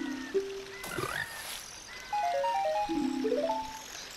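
Croaking frogs from a video game mini-game sound in short tonal calls, some rising and falling, with a soft watery background between them.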